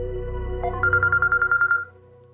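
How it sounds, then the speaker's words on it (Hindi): Phone ringtone for an incoming call: a short electronic melody of about a dozen quick, evenly spaced beeping tones, loud and close over a faint background hum, stopping abruptly. "फोन आ रहा है मामा, अब्दुल्ला है"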